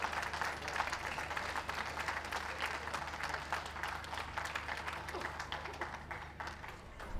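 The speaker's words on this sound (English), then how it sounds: "Have a big round of applause for all of our group winners as they go around individually." A dog show crowd applauds the group winners as they parade, a sustained even clapping from a large audience heard at a distance and holding steady throughout.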